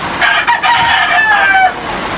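A gamecock crows in a breeding pen in the rain, one loud, close, drawn-out cock-a-doodle-doo with a wavering tail, heard alone.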